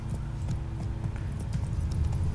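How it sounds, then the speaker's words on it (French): Horse hooves clopping in The Witcher 3, a quick, steady run of soft hoofbeats over a low rumbling background, fairly quiet and continuous for a couple of seconds. "le cheval est horrible."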